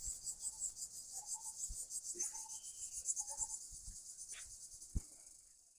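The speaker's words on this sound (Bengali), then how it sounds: "গ্রামে দেখছেন ঝিঝি পোকা ডাকতে আছে।" Crickets in a village trill in a fast, steady pulsing chirp that runs throughout, quiet and somewhat distant, with a few soft knocks and rustles nearby and no voices.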